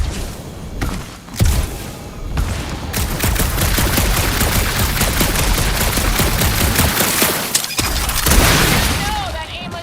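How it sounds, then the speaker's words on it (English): Star-Lord's blaster in the Guardians of the Galaxy video game fires in a loud, sustained stream of rapid shots lasting several seconds, with a few heavier booms and voices talking over the shooting. "that aimless shooting isn't gonna scare the monsters away"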